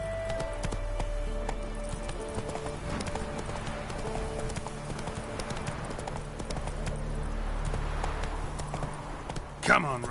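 Roach the horse gallops in The Witcher 3, with a brisk rhythmic clip-clop of hooves over a low ambient drone and a brief louder snort or whinny near the end, while a voice speaks in places.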